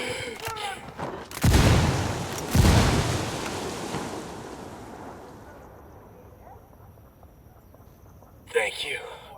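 Frag grenade blasts in the tactical shooter Ghost Recon Wildlands, two loud booms close together, each rolling off into a long fading rumble with wind-like ambience, a voice briefly heard at the end.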